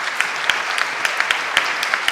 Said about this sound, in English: so one applause for the Via